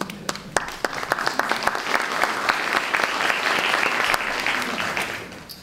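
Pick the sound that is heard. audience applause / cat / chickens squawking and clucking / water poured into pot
audience applause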